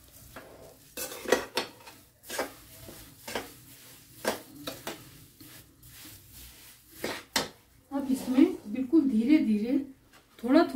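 Semolina halwa with sugar is stirred in a pan, making repeated scraping strokes and light clinks of the spoon against the metal. The mixture sizzles softly underneath. Near the end someone speaks over the stirring.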